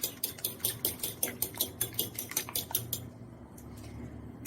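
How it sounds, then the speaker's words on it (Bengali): An egg is beaten in a bowl while preparing batter for a pabda fish fry, giving rapid, even clinking strokes close by for about three seconds before stopping, with no talk. "ডিমটাকে একটু ফেটিয়ে নিতে হবে।"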